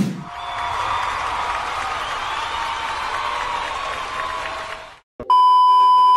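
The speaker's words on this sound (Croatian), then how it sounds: "Molim jedan aplauz!" Canned applause effect with crowd clapping and cheering, steady and fairly loud for about five seconds before stopping abruptly, then a sharp electronic beep tone.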